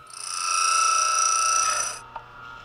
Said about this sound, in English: you hear the burrs just touching